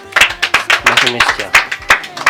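A burst of clapping from a small group, quick uneven claps close by, with voices mixed in.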